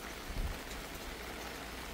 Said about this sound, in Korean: 지금 이 순간 비가 내리고 있는데요.